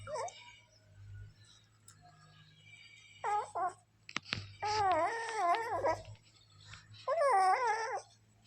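A puppy whimpers and whines in high, wavering cries, close and fairly loud, coming in separate bursts with quiet gaps and a steady low hum underneath.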